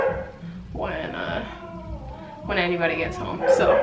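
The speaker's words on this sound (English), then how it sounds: "Sorry if you can hear my dogs barking in the background." Dogs bark and yip excitedly in short bursts behind a person talking close by.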